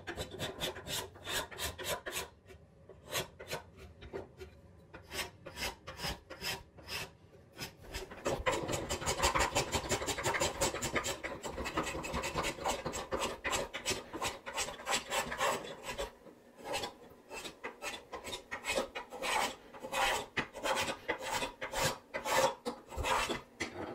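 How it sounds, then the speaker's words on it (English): Steel spokeshave shaving a wooden clock part clamped in a vise, a steady run of rasping strokes, close and fairly loud, pushed and pulled in quick succession with brief pauses between bursts. "Keep the spoke shave setting light, and you'll see when the grain starts to reverse on you"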